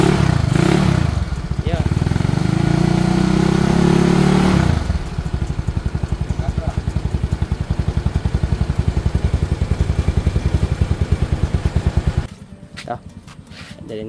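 A motorcycle being warmed up revs loudly for several seconds, then drops to a close, rhythmic putter at idle before cutting out, while someone talks briefly.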